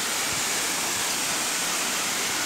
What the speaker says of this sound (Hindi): तो चलो तो गाइज ये है पहला वाटरफॉल यहाँ का।